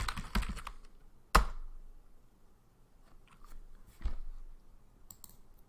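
Keystrokes on a computer keyboard as a short command is typed at a Linux (SUSE) command line, a quick burst of clicks with one sharper tap, then a few scattered lighter presses, close and fairly quiet.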